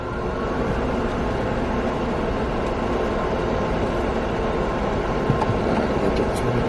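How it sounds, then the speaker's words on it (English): Car wash dryers on a Belanger Vector system roar steadily with a broad, constant blowing rush that barely changes for several seconds, loud and close, with no voices. "Those dryers sound nice."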